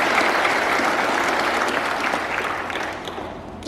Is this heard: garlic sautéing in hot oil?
no